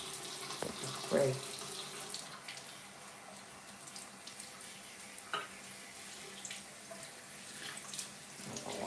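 A bathroom tap runs steadily into a sink while someone washes their face, the continuous splashing water close and even, with a few brief knocks and clatters over it.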